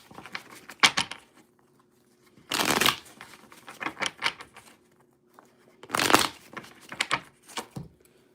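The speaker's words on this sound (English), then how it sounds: "Let me clear the energy and let me shuffle." Tarot cards being shuffled by hand, with several crisp, riffling bursts separated by short pauses and softer taps and slides of the deck, close and clear.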